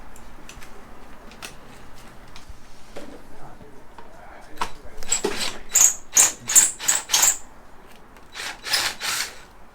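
Screws coming out of a wrecked Suzuki GSX-R 600 motorcycle during a rebuild, heard as a run of quick, sharp ratcheting tool clicks in a close rhythmic burst, after quieter scattered taps and handling noises.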